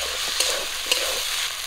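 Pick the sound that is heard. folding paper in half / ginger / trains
ginger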